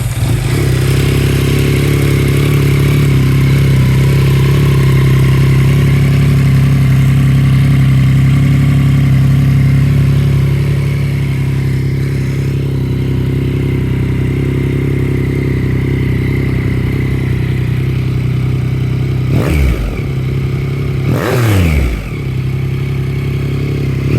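A 2023 Yamaha XSR900 motorcycle with a Black Widow full exhaust system idles warm with a steady, loud, deep burble close by, then two sharp revs rise and fall near the end.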